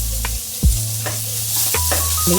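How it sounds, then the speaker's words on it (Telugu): Onion, green chili and tomato pieces frying in hot oil, a loud steady close sizzle with occasional stirring scrapes and a low pan hum. "ఆయిల్ కొంచెం వేడెక్కాక ఉల్లిపాయ ముక్కలు పచ్చిమిర్చి ముక్కలు వేసుకొని వేపుకోవాలి"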